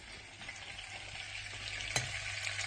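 Butter sizzling in a pan while browning into nut butter with sage, a close, steady frying hiss with one brief sharp clink near the middle, no voices.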